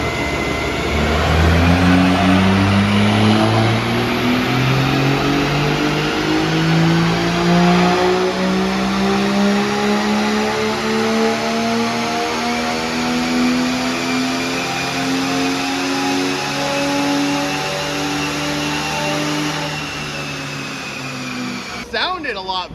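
A Volvo revs hard on a chassis dyno, its engine note climbing steadily through one long, loud pull before cutting off abruptly near the end.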